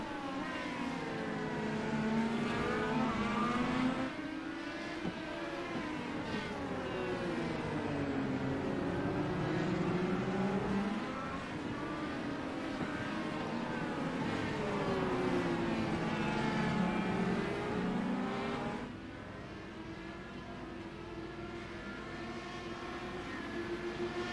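IndyCar race cars in the iRacing sim lapping the Hungaroring through high-speed turns, engines whining steadily with rising and falling pitch sweeps as they pass, loud and continuous with no talk.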